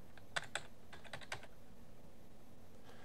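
Quiet keystrokes on a computer keyboard, a few sharp taps in a quick cluster followed by fainter clicks, typing a search into the Windows 7 start menu in a hushed room.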